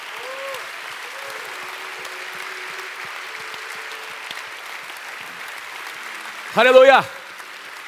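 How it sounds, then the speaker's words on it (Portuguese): A church congregation applauds steadily, a broad wash of clapping from many hands that runs through the whole stretch, while a voice calls out loudly over it near the end. "Dê um aplauso ao Senhor Jesus."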